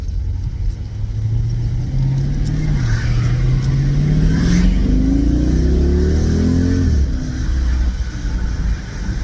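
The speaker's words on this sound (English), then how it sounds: "That's the 2014 SRT fully rebuilt motor." Cabin sound of a 2014 SRT with a fully rebuilt engine, stock exhaust and suitcase air filters, driven in a 50 zone: a steady, loud low engine drone rises in pitch through a long pull, then drops back, with no talking.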